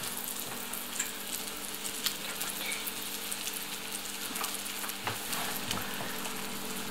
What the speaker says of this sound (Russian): Вот. Жарится.